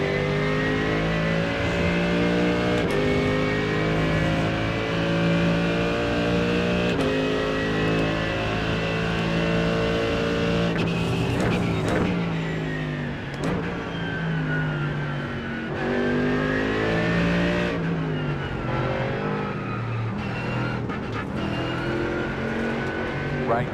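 GT3 race car engines roar at Silverstone in the iRacing video game, a loud continuous drone that rises and falls through upshifts and downshifts, with no talk over it.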